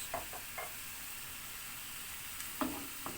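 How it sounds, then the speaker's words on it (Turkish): Minced meat and chopped onion fry in a pan, a faint, steady sizzle with a few soft scrapes of stirring. "Soğanlar yumuşayıncaya kadar kavurmaya devam ediyoruz."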